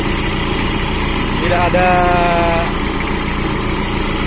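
A petrol car engine fitted with an oil catch tank idles steadily just after starting, a constant close rumble with a brief whistling tone partway through, while a voice speaks briefly.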